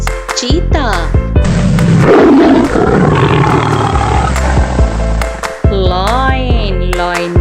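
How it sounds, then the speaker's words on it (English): A cartoon tiger gives a long, loud, rumbling roar in a children's Urdu vocabulary cartoon. The roar plays over music, with brief voice-like tones before and after it. "Tiger. Tiger means cheetah."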